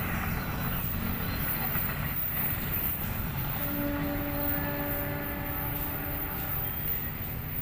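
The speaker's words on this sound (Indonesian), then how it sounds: "Sebentar lagi kereta api Wijaya Kusuma akan lewat guys." A Wijayakusuma passenger train passes a trackside shelter at Pagerwojo bound for Surabaya, a loud, steady rumble of wheels and cars filling the whole span, with a sustained horn-like tone entering partway through.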